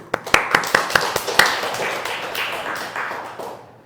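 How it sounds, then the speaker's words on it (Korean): A church congregation, the women members, claps in sharp rhythmic strokes that spread into a fuller round of applause and then fade, with a few voices faintly underneath. "우리 여성 성도님들 미리 박수부터 치겠습니다"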